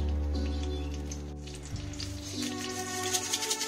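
Green chilies dropped into hot oil with a little asafoetida hiss and sizzle in a pan, a soft steady frying crackle that grows busier toward the end, heard close and alone.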